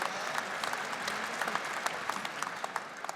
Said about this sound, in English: let's give them another round of applause as they leave the stage